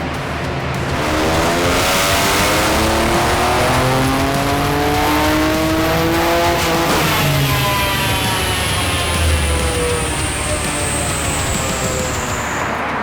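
A Toyota Yaris time attack car with a 1.6-litre three-cylinder engine making about 300 wheel horsepower races at Tsukuba, its engine loud and close as it revs hard through the gears, with a long rising pull and gear changes throughout.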